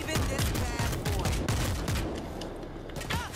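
A heavy machine gun in World War Z fires rapid, dense bursts of loud, close shots for about three seconds, tapering slightly at the end.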